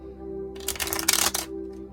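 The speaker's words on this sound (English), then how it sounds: "first shuffle. It's always going to be a rough one." Tarot cards being shuffled in a single rough pass, a burst of dense papery riffling and slapping lasting about a second over a low steady room hum.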